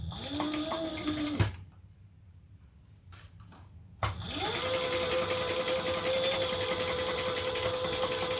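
A sewing machine stitches a handbag seam in two loud, close bursts of rapid mechanical whirring, split by a pause of a few seconds filled with faint handling noises.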